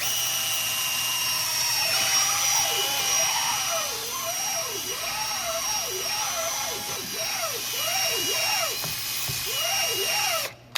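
A long stainless steel wire brush spins inside a hole in a 2013-2017 Honda Accord's rear wheel hub at the ABS speed sensor mount, a steady high-pitched drill whine with rhythmic scraping sweeps, close and continuous until stopping abruptly.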